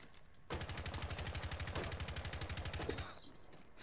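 Automatic gunfire in the video game Rainbow Six Siege, a single rapid burst of evenly spaced shots lasting about two and a half seconds, close and loud, after which it stops.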